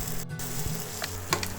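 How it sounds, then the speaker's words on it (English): Chicken sizzling and popping in a hot pan, a steady frying hiss with a few sharp pops, close and alone without talk. "As you can see there, it starts frying and popping."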